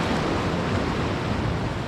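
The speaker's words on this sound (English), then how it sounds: "The sound, the wave sound, you know, water sound, the nature, nothing can beat its beauty, seriously." Ocean waves wash steadily onto a beach in Pondicherry, a loud, continuous rush of surf heard up close and mixed with wind.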